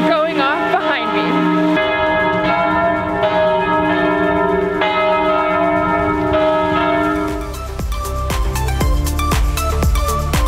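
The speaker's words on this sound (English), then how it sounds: "you can hear the chimes of the clock going off behind me." Clock chimes ring out from the bell tower of Notre Dame Basilica in Montreal as a steady run of loud, resonant bell tones with long ringing sustains. Sharper, faster strikes come in near the end.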